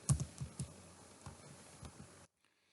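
Keys clack on a computer keyboard during work in a Microsoft Excel spreadsheet, a short burst of light close-up taps followed by a few scattered presses before falling silent, with no voice over it.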